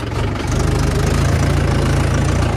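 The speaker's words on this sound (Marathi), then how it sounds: "थर्डमध्ये आपण आपला ट्रॅक्टर फक्त 10-4 RPM वरती आपण ट्रॅक्टर चालवणार आहोत" A tractor engine runs steadily at low RPM in third gear while ploughing a hard, rain-trampled field, giving a loud, continuous, even low rumble with a regular knocking pulse and no voices.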